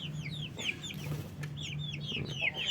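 Backyard free-range chickens cluck in repeated short, bright calls, fairly close and steady over a low background hum, with several birds overlapping throughout.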